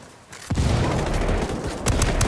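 Rapid gunfire in a shooter video game erupts after a quiet moment, a dense close burst of shots with a few louder cracks near the end.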